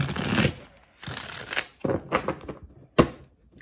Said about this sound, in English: So anyway, we're just shuffling a bunch of times.